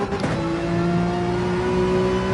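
Gran Turismo 7 race car engine droning steadily and loud as the throttle eases off, a sustained tonal hum with no pauses throughout.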